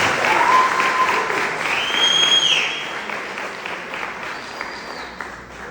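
A church congregation claps hard and steadily in a sustained round of applause that fades slightly toward the end, with a few faint voices mixed in.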